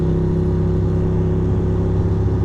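A car cruises through New York City streets at dawn, a loud steady engine drone and road rumble heard from inside the cabin, with no talking.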